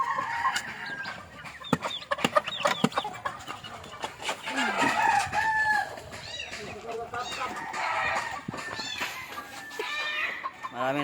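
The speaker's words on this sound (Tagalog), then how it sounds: "Marami na tayong manok." Chickens cluck busily on a small farm while a rooster crows more than once, close and lively, with people talking faintly underneath.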